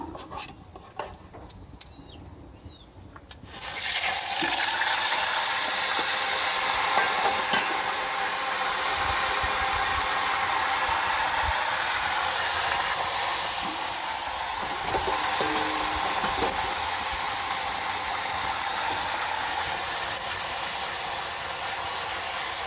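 Oil frying a second batch in a pan, a steady loud hiss and sizzle starting abruptly after a few seconds of quiet and holding on, with faint crackles throughout.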